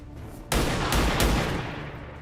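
Gunfire in the tactical strategy game XCOM 2, a sudden loud burst of automatic shots kicking in after a brief lull, several heavy cracks in quick succession that then trail away.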